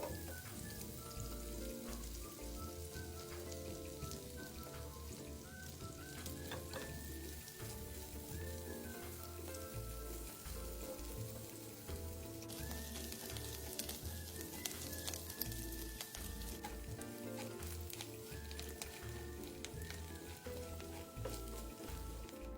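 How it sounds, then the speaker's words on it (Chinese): Steady sizzling of soaked, chopped dried shrimp frying in fat rendered from pork belly, close and continuous, with soft music playing underneath. "倒入热货内，利用五花肉溢出的油分爆香"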